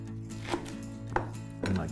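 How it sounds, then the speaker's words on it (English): A knife chops through a radicchio leaf on a board, cutting it in half, with a few sharp, close knife strikes spread over a short stretch and low kitchen hum beneath. "Just chop it in half like that."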